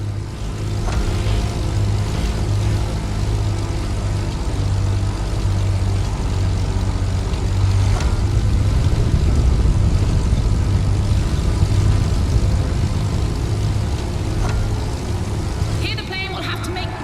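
In The Crew Motorfest video game, a race car and a propeller plane roar side by side in a continuous loud engine drone that swells and fades a little, with brief clicks near the end.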